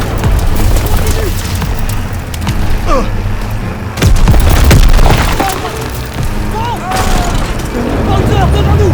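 Dense gunfire and booming explosions fill a Call of Duty WW2 battle, loud and continuous with sharp cracks and heavy blasts, while voices speak over the combat.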